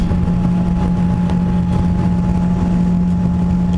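An airliner taxis at Jack Brooks Regional Airport, giving a loud, steady engine drone with a low hum throughout and no voices.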